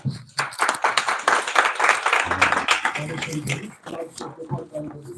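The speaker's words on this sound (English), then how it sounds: "let's give a big round of applause to Prabhu." An audience at an ISKCON Columbus temple talk gives a round of applause, scattered hand clapping mixed with voices and chatter in a room.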